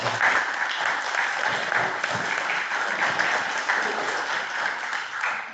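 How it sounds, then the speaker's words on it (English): A conference audience at a rural gathering applauds a presenter named Sam, a full, sustained wash of many hands clapping steadily throughout, fairly close and loud, with no speech over it. "if you'd like to join me with a round of applause for Sam"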